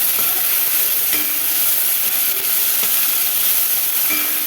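Chopped onions frying in a pan for a potato stir-fry, a loud continuous sizzle and hiss close by with occasional faint scraping, no voices.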